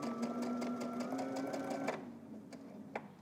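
Faint, steady whirring and rapid ticking of a home sewing machine stitching a seam on a Simplicity S9331 garment, running for about two seconds before stopping, followed by a few soft clicks; no one talks.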